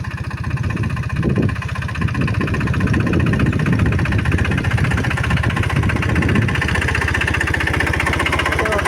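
A Captain tractor works a groundnut field for inter-row tilling. Its mid-pitched engine runs steadily and loudly nearby, with a constant chugging throb and no voices.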